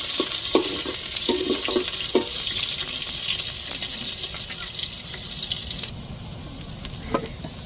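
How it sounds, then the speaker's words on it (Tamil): Onion and fenugreek seeds fry in hot oil for a sala fish kuzhambu, giving a steady close sizzle with a few sharp stirring clicks early on that gradually eases. "இப்போ எண்ணெய் சூடேறிட்டு வெந்தயத்தை சேர்த்துக்கிருவோம் இப்போ தாளிச்சுக்கிட்டே நம்ம மீன் குழம்ப கூட்டிடுவோம் வெங்காயம் சேர்த்துக்கிடுவோம்"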